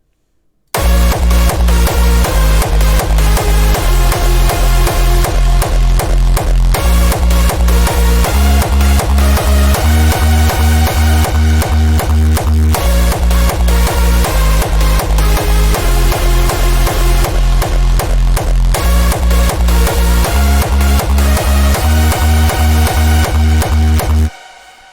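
A loud hardstyle kick drum pounds in a steady four-on-the-floor rhythm under a dense synth melody, filling the whole stretch until an abrupt stop.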